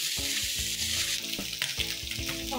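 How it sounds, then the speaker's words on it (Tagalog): Pork for adobo sizzles and crackles in a small hot pan, rendering its fat, with irregular pops and spatters over a steady hiss, close by and fairly quiet. "medyo nag-prito-prito na siya. Lumabas na ang kanyang mantika"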